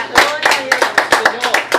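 A church congregation claps in praise during a Sunday morning service, loud rhythmic claps in a steady beat of about four per second, with a voice calling out over them.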